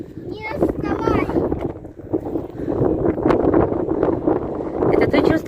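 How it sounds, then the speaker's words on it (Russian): Strong wind blasts against the microphone on Mount Mithridat above Kerch, roaring in continuous heavy gusts while people talk over it. "Ветер только сильный, очень сильный."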